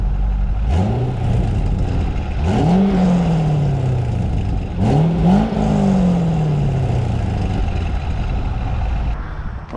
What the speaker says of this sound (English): just driving through this parking lot